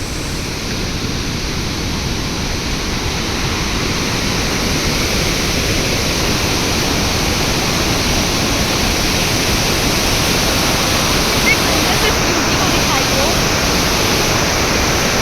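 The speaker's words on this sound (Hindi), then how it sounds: "अभी हम लोग आए हैं आटोकार्ड वाटरफॉल और ये one of the most beautiful waterfall है।" Attukad waterfall near Munnar, Kerala, with heavy water flow roars as a loud, dense, unbroken rush close by, steady throughout.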